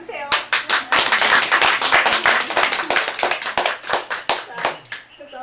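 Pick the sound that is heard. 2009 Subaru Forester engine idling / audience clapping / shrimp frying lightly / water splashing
audience clapping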